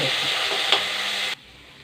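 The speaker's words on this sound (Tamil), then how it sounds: "இஞ்சி, பூண்டு எல்லாத்தையும் போட்டுக்கலாம். கறிவேப்பிலையும் போட்டுக்கலாம். எல்லாத்தையும் நல்லா வதக்கி" Ginger, garlic and curry leaves sautéing in a pan with onion and tomato, a brief dense sizzle with one sharp stir knock before it cuts off abruptly.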